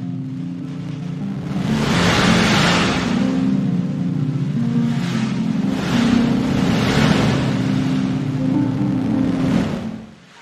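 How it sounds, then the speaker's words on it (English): NASA's sonification of light echoes from the black hole V404 Cygni plays as a loud, steady rushing wash with a low drone beneath it. Surges like surf swell and fade over it, and it cuts off at the end. "Let us listen to what a black hole sounds like."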